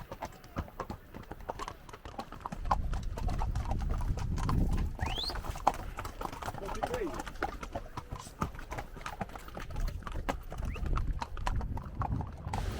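Steady clip-clop of horse hooves on a hard surface, close and rhythmic, with people talking over the clatter.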